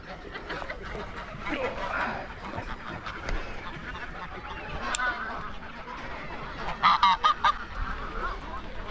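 A flock of geese honking nearby, scattered calls over a busy outdoor background with a short burst of louder honks near the end; someone talks in places.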